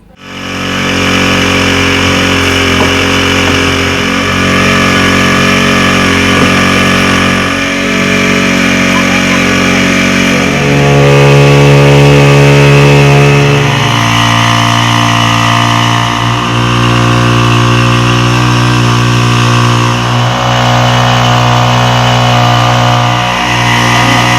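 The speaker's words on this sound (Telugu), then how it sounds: "ఆ ఇంజన్ ద్వారా అవి స్ప్రే నాజిల్స్ స్ప్రే అవుతూ ఉంటాయి" Engine of a farmer-built four-wheel crop sprayer that powers its spray nozzles runs loud and close, a steady droning hum whose pitch shifts midway and then settles, continuous throughout.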